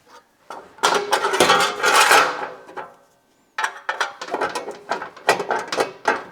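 Clattering metallic clicks and knocks from the spring-loaded mechanism of an Evolution chop saw, in two busy bursts split by a short silence, close and fairly loud, no voices.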